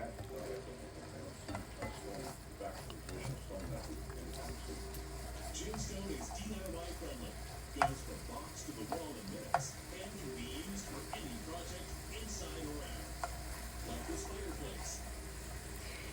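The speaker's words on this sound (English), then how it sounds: "we're going to let this green onion saute for a minute or two" Green onion sautéing in a pan for Tuscan chicken, a soft, steady sizzle with occasional stirring clicks, fairly quiet and continuous, with faint talk at times.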